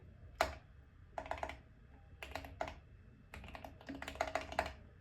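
Someone types a password on a laptop keyboard to log into a Cisco router over SSH. Quiet, close key clicks come in several short bursts with pauses between them, and there is no talk.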